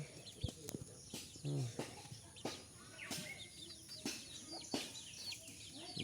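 Local desi chickens cluck in short bursts close by on a poultry farm, with sharp clicks, scattered chirping birds and faint farmyard rustle around them.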